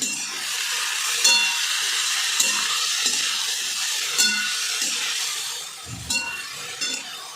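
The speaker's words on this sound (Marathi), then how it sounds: "आता ही कोबी टाकून झालेली आहे तर आता ही चांगली परतून घेते अगोदर" Shredded cabbage sautéed in a pan for a simple Maharashtrian kobichi bhaji, steady frying hiss with repeated spatula scrapes and light clinks against the pan, no talking.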